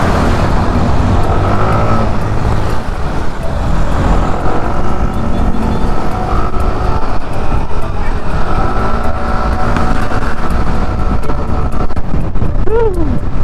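Road traffic around a rider on a Yamaha NMAX 155 scooter stuck behind a truck, a constant close engine drone and wind rumble under passing vehicle noise, with occasional talk.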